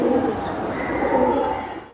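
Several male pigeons, including silver birds, coo close by in a pigeon market: soft, throaty rolling calls that overlap in a busy murmur and tail off at the end.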